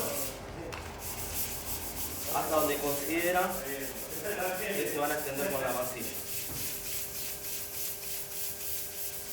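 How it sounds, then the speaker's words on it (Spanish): Sandpaper held flat under the palm is rubbed in circles over a painted surface, giving soft rhythmic scratching strokes in bursts, while someone talks in Spanish. "Le hacen el pliegue para agarrar la lija sobre la palma y movimientos circulares"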